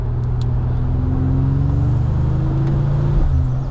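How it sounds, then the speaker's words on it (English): Mercedes-AMG CLE 53 Cabriolet turbo engine accelerating hard, a loud steady drone with a rising tone, heard from inside the car with no talk. "You can really hear that turbo when you're on it in the Sport"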